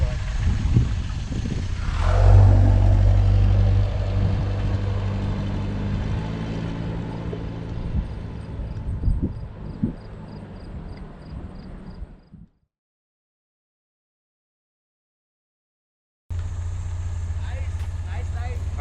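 A 1929 Mercedes-Benz kit car engine idles steadily close by with a low rumble beneath talking, then falls silent for a few seconds before the running sound returns.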